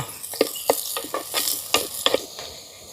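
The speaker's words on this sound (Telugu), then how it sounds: "ఒక్క రెండు నిమిషాలు ఉల్లిపాయలు ఎర్రగా మగ్గాలండి" Onions frying in a pan for a curry, a close soft sizzle broken by a series of stirring scrapes and taps at an irregular rhythm, no voices.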